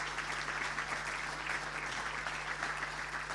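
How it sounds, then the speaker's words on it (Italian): Audience applause at the Veneto Paralympic Sports Gala welcoming Lara Cestonaro, president of the club Sorriso Riviera SD Onlus; steady, dense clapping fills the hall at a fairly quiet, even level with no talk. "Accogliamo con un applauso Lara Cestonaro"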